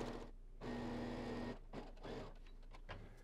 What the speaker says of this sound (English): Now I'm going to stitch this at a 5/8 of an inch seam allowance.